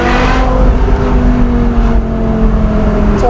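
A manual BMW M5 E60 with its V10 engine and new wheels revs and pulls from inside the car, a loud, steady high-pitched engine wail with a slowly climbing tone and no talk over it.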